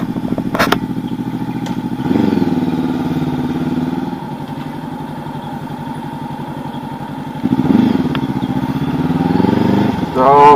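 Engine of a 2019 Honda CB500X motorcycle idles and revs in winter, a steady close mechanical throb with a couple of louder swells, under someone talking.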